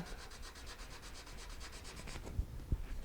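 Steady rhythmic sanding of a wooden acoustic guitar back brace, quick back-and-forth rubbing strokes, close up, followed by a couple of light knocks.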